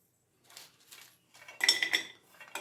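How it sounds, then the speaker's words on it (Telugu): Metal pan set onto a stove before dry roasting coconut, cumin, coriander seeds, fenugreek and mustard seeds, a few separate clanks and scrapes, the loudest a ringing clatter near the end, close and otherwise quiet. "ఇప్పుడు ఇవి వేయించుకుందాం స్టవ్ మీద పెట్టి"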